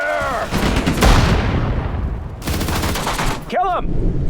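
Gunfire rattles through a World War II forest battle in the Sudden Strike 4 strategy game. Loud overlapping rifle and machine-gun bursts go off with booming impacts, and a brief shouted voice comes in near the end.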